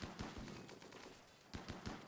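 Faint bursts of gunfire in the video game RimWorld as colonists shoot at a Toxic Spewer: scattered quick shots, then a tighter cluster of three or four near the end.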